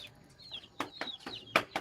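Chickens in a small mesh-fenced shed make soft clucks and short calls, a few scattered bursts over quiet background, moderately close.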